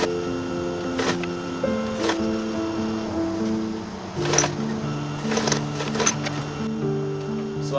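A sewing machine stitching the folded neckline of an A-line gown, its steady motor hum running under tonal whine, with several short clattering bursts of needle and feed, close and fairly loud.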